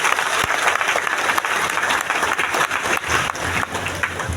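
An audience at a mega event in Latehar, Jharkhand breaks into loud, dense applause that holds steady throughout, with sharp individual claps standing out from the crowd.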